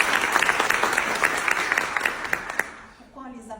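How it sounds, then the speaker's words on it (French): An audience at a ceremony gives applause to the teaching staff, a dense burst of clapping that is loud at first and then fades out toward the end. "on va les applaudir"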